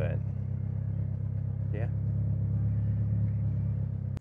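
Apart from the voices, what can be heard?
Mitsubishi Evo X race car engine idling in traffic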